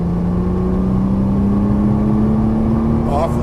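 A Nissan GT-R accelerating on a race track, a loud steady engine drone with a slowly rising pitch under the throttle, heard from inside the car.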